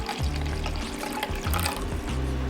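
Water pours steadily for a couple of seconds in short gushes into the center of flour for dumpling dough, close by, with a low splashing gurgle and no talking.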